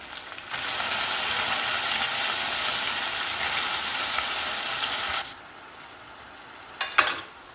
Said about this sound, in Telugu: వంకాయలు కడిగి పెట్టుకొని వంకాయలు వేసుకోండి